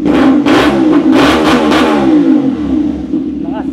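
A motorcycle engine revs hard to around 4,000 RPM in a series of loud, close bursts, each one rising and then falling back, before it settles near the end.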